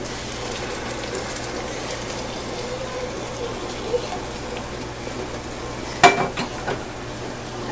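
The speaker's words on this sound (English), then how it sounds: "And then you just stir it all in." Ground meat in gravy simmering in a pan, a soft steady sizzle and bubbling with quiet stirring scrapes, a few sharper clinks of the utensil near the end.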